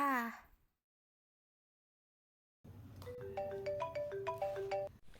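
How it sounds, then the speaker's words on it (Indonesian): A phone rings for an incoming call: a short melodic ringtone of repeated rising notes plays fairly faint and alone after a brief wavering voice sound and a pause of silence. "Aku coba telepon dia"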